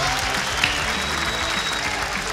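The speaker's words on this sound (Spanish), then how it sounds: "Un aplauso de nuestros preferidos." An audience on a Spanish-language variety show gives a steady round of applause, a dense even wash of clapping that stays loud throughout the short moment.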